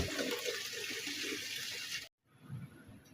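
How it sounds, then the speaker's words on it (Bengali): Fish being washed under a running tap, with a steady rush of water that cuts off abruptly near the end and is followed by faint wet handling sounds. "এবার মাছগুলো ধুয়ে নেবো।"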